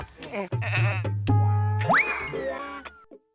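A loud, wavering goat bleat rises and falls close by, with a few sharp clicks and a short break before another bleat.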